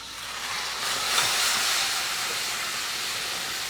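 Chicken jalfrezi with garlic fries in a pan, a steady broad hiss and sizzle that swells briefly and then settles, heard alone.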